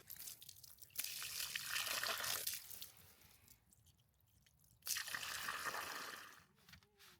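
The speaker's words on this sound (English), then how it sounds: "an hour or so to drain the black and the gray water tanks" Water drains from the black and gray waste tanks of an RV, coming as a rushing, splashing flow in two long bursts separated by quieter trickling.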